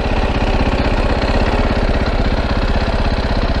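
A 530 supermoto motorcycle engine with a stock exhaust runs steadily and loudly up close, a dense, even low-pitched pulsing throb that holds at a constant idle-like pace throughout, with no voices over it.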